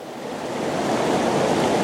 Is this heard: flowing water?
yes